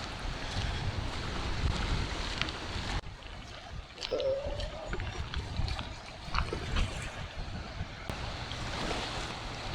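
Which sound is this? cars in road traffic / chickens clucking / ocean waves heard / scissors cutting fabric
ocean waves heard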